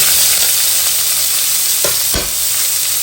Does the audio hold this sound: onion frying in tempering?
yes